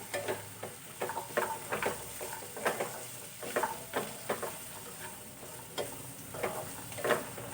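Jackfruit seeds sautéed in a pan, with a steady, rhythmic series of spoon scrapes and stirs over a low sizzle, close and without speech.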